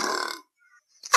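One short, close belch sounds at the start and cuts off quickly. A brief silence follows before a louder burst at the very end.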